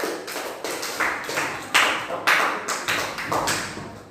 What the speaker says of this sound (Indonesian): Oke, tepuk tangan buat Rohan.